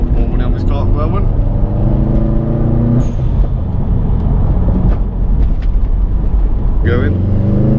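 Subaru WRX STI engine revs hard with the throttle fully depressed, a loud, deep in-car drone that climbs, drops sharply at a shift, then climbs again, with someone talking over it.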